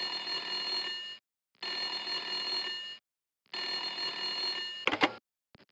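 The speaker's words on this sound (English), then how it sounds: "Suddenly, the phone rang." Telephone bell ringing in three long rings with short pauses between, loud and close, followed by a brief clatter as the receiver is picked up.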